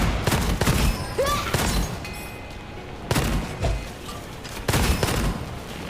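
Explosive grenade blasts and gunfire bursts in the first-person shooter Gunfire Reborn, with loud booms recurring roughly every second and a half over a rumbling background.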